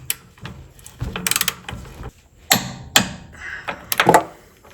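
Suspension bolts tightened on a car with a ratchet wrench: bursts of quick ratcheting clicks and metallic clunks from close by, with short pauses between pulls.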